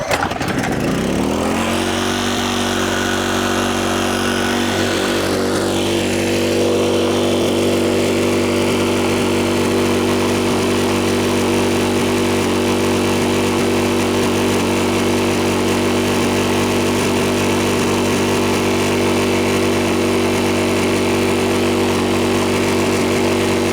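A Powersmart 4400 watt open frame inverter generator pulled and catching right away, then running at a steady loud engine drone with a constant hum through the rest.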